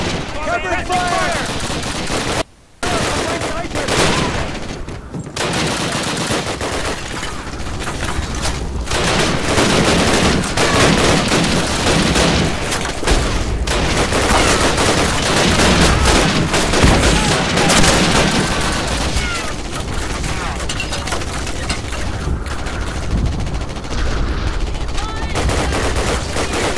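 Sustained heavy gunfire from a Call of Duty battle, dense rapid bursts of automatic weapons and loud shots continuing almost without a break, with brief shouted voices mixed into the chaos.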